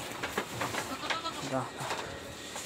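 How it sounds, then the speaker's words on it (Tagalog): Goats on a farm bleat a few times in short wavering calls, mid-distance, amid voices and scattered background bird and livestock noise. "pakita ko lang sa inyo yung mga kambing natin"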